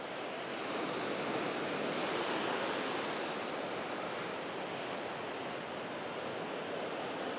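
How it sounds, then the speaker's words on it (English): Ocean waves wash onto a beach near Start Point Lighthouse in Devon, a faint, steady surf hiss swelling slightly early on, mixed with some wind rumble against the microphone. "creating some nice waves coming in there."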